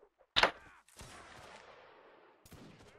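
Line infantry in the game Napoleonic Wars fire a musket volley, a loud sharp crack followed by a rolling, fading rumble of shots, with another burst near the end.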